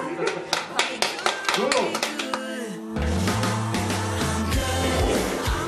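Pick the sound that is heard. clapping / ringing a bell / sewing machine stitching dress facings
clapping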